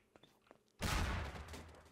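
A sudden loud explosion in the video game Trouble in Terrorist Town, a heavy booming burst with a rumbling tail after a few quiet clicks and faint sounds.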